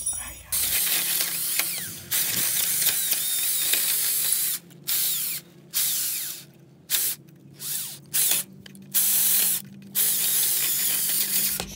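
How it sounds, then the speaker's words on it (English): Power drill boring into a wooden sill plate that overhangs a foundation wall, running in a series of close, loud bursts separated by short pauses, with a few quiet gaps between runs. "She drilled a little more to see if she can get some more movement on that sill plate."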